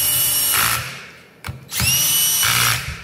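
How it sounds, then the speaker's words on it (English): A cordless power drill set on its clutch runs bolts into a Dana 44 ring gear on a Jeep Wrangler Rubicon: a long whirring run, a short pause with a clutch click, then a second loud run. "Again, I have the drill at the clutch"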